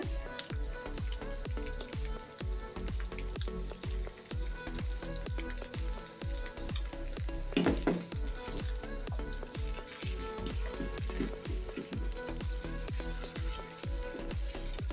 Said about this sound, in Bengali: এখন আমি ধুয়ে রাখা চাউমিনগুলো দিয়ে দিব।